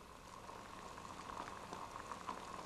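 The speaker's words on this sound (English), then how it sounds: "we have boiling water" Steady bubbling and hissing of water at a rolling boil on a cottle stove, continuous and fairly quiet, with small pops scattered throughout.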